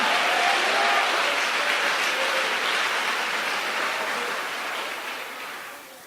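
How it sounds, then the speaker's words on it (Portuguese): Dense applause from a church congregation during an evening service, loud and continuous like steady rain, slowly tapering off toward the end. "Tem algum aplauso àquele que vive?"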